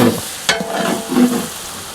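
Chili powder hits hot oil for biryani, giving a brief close sizzle with a couple of stirring scrapes over two seconds.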